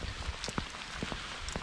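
Rain falls steadily during a walk outdoors near Villers-la-Ville, a dense, even hiss with scattered louder drops tapping close by, alone without talking.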